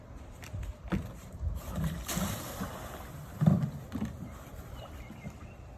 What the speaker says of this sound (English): the person in the front seat can push off the canoe and hop on in